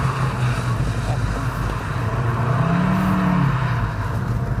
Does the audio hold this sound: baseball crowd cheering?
no